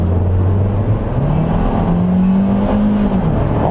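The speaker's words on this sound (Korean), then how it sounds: "뭐 순식간에 치고 나가는 이 가속성입니다" A Hyundai Kona gasoline car with 16-inch eco tires accelerates hard, its engine note climbing steadily in pitch under a constant loud cabin drone, heard from inside with no talking.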